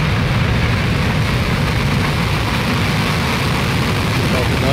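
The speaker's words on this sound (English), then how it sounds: "We have liftoff of Falcon 9." SpaceX Falcon 9 rocket engines roar at liftoff, a dense continuous rumble dominated by deep low frequencies, loud and sustained throughout the clip.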